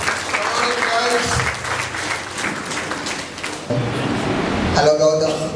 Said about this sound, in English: A round of applause for this team.